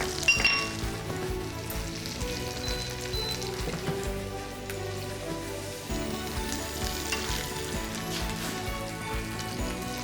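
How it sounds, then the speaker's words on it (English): Butter sizzles and fries steadily in a hot pan with sliced garlic, a continuous crackling hiss at moderate loudness, with no voices over it. "You can hear the sizzle of the butter."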